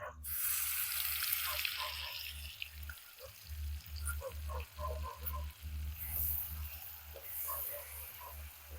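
Garlic paste and grated coconut sautéing in a pan while cooking village-style chicken, a quiet low sizzle broken by soft scraping stirs and small wet pops, fairly faint and close, with no talking.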